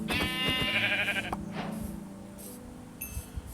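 A Minecraft sheep bleats in a drawn-out, wavering cry, followed by a few soft in-game clicks and thuds, with no talking over it.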